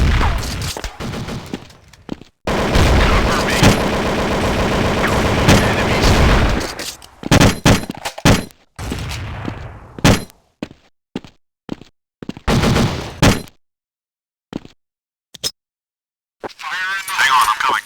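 Counter Strike gunfire in a port battle map: bursts of rapid shots and sustained automatic fire, loud and close, broken by gaps, single shots and short clanks, with game voice lines mixed in.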